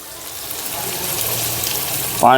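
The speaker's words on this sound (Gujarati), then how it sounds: "એક આખો ગ્લાસ પાણીનો નાખી દે હું" Water runs and splashes steadily from a glass into a clay pot holding raw potatoes, growing slightly fuller in tone, then ends with a brief voiced sound.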